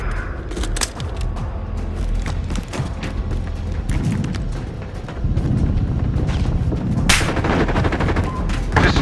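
Gunfire in Modern Warfare on PS5: rapid machine-gun bursts and single shots crack loudly and repeatedly, near and dense, with occasional deeper booms and no talk.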